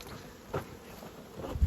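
A faint, close buzzing of honeybees around a hive swells briefly a couple of times over a low, steady background.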